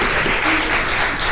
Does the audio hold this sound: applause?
yes